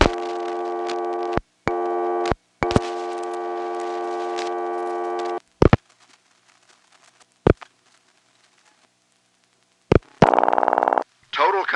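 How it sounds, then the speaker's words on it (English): Telephone dial tone on a 1977 XY step-by-step exchange in Sanford, North Carolina: a steady buzzing tone in bursts broken by dial clicks and sharp switching pulses, then silence and a warbling signal near the end. "it dropped me right back to dial tone"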